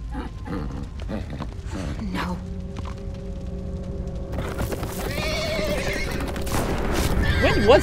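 A horse in The Walking Dead video game lets out a loud, shrill whinny, followed by clattering, thuds and a further cry rising toward the end, alongside game sounds.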